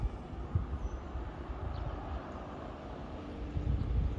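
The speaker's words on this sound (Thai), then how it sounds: "มาแล้วครับได้ยินเสียงเครื่องยนต์มาแล้วนะครับ" A GEK 4004 diesel locomotive hauling train 260 on Thailand's western line approaches, a low, steady engine rumble with faint wind noise that swells slightly toward the end.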